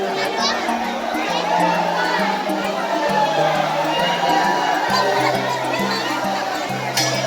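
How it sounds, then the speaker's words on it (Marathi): A dense crowd of pilgrims mills around at Harishchandragad fort on Mahashivratri, loud overlapping chatter, children's voices and shouts filling the space continuously close by. "इकडे खूपच महाशिवरात्री निमित्त इथं भरपूर गर्दी आहे"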